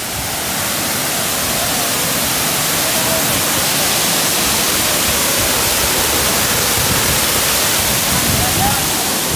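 Water gushes from the opened valves of the Banabuiú reservoir dam, a loud, steady broadband roar that never lets up, with voices faintly heard beneath it.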